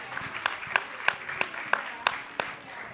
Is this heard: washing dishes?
no